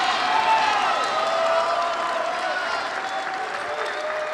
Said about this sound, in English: And what a roar from the crowd after that point.